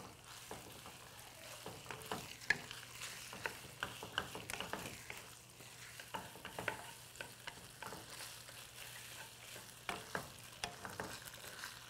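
Shredded pork stir-frying in a pan for a Beijing-style sauce dish, a steady close sizzle broken by frequent sharp scrapes and clacks of a spatula stirring, with a low constant hum underneath and no talking.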